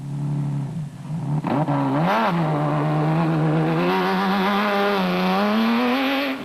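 A Rodenko Bat P-Class rally car at the Eastern Cape 500 revs hard and close, its engine note dipping and then climbing steadily in pitch as it accelerates, loud and alone.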